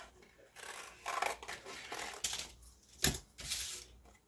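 Scissors snip out paper ears for a homemade mask, close and quiet, in several separate crisp cuts with short pauses between them.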